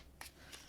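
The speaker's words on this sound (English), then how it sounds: "I usually know it's time to try and shuffle a little bit like this" Tarot cards shuffled by hand, heard as three short, soft papery bursts spaced apart, faint and close, with no talking.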